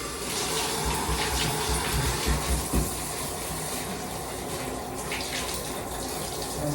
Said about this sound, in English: Now I'm about to use the shower head to rinse the tub.